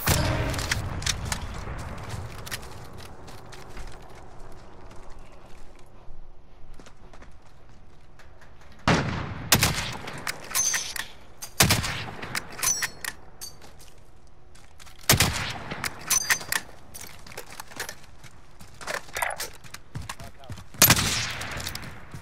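Gunfire in the video game Call of Duty: Modern Warfare: several sharp, loud bursts of shots with quieter stretches between them, the first after a calm opening, with faint background activity throughout.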